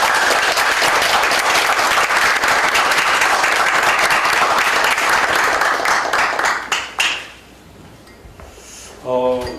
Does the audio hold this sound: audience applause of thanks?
yes